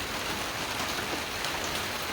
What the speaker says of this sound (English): Okay, it's raining pretty hard.